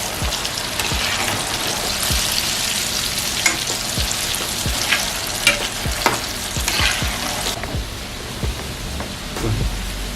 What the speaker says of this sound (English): So once you put in the chin chin, you have to start stirring immediately to avoid burning.